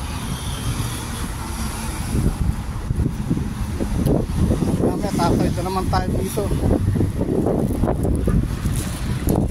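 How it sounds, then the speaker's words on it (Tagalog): Heavy wind buffets the microphone with constant low rumbling and thumping, while a person talks in Filipino underneath the roar during an outdoor walk. "Dahil mahangin eh, maingay ito."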